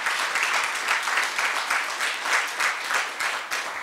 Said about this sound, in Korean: 감사와 격려와 다짐의 박수를 보내드리면 어떨까요?